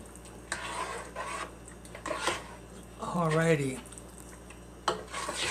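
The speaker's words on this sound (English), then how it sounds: "We'll just give that a nice stir, adding in our salt pork" Kidney beans and salt pork being stirred in a pot, giving soft intermittent scraping and rubbing bursts at close range, with a brief spoken word in the middle.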